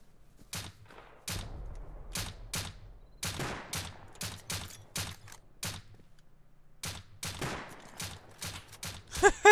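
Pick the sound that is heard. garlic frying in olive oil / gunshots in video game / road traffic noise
gunshots in video game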